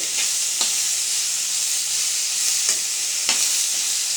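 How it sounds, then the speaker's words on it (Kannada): Masala of tomato and onion sizzling steadily in a pan, a continuous close frying hiss with a few soft stirring scrapes. "ಈ ಮಸಾಲೆ ಐಟಮ್ಗಳನ್ನೆಲ್ಲನೂ ಚೆನ್ನಾಗಿ ಫ್ರೈ ಮಾಡ್ಕೊಳ್ಳೋಣ ನೋಡಿ"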